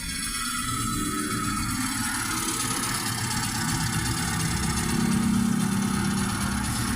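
A Rusi Rapid 150 motorcycle engine fitted with a new E-type carburetor idles steadily and fairly close, a continuous low rumble with no talk over it.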